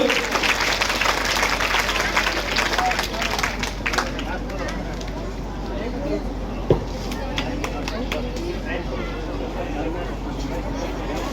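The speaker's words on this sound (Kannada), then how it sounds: "ಎಲ್ಲರೂ ಜೋರಾದ ಚಪ್ಪಾಳೆಯೊಂದಿಗೆ ಪ್ರೋತ್ಸಾಹಿಸಬೇಕು" An audience claps loudly and continuously at a student award ceremony honouring a first-ranked fifth-grade pupil, then the applause thins toward the end.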